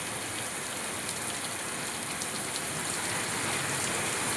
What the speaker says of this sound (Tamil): எனக்கு கீழே போய் எடுக்க முடியலை, அவ்வளோ மழை.